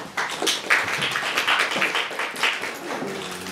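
An audience at a press conference for the Korean Pavilion at the Venice Architecture Biennale claps in moderate applause to welcome a speaker to the podium.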